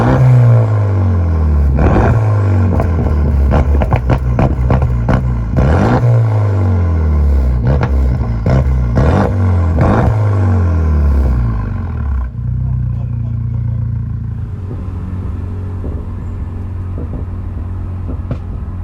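A car speeds up hard to overtake another car: a loud, close engine climbs in pitch through repeated gear pulls with rattly clatter, then settles into a lower, steadier cruising drone near the end.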